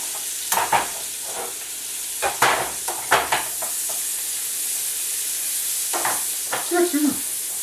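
Sliced onions fry and caramelize in a pan for liver and onions, giving a steady sizzling hiss. A spoon clatters and scrapes through it in a few sharp strokes, close by, with no talk.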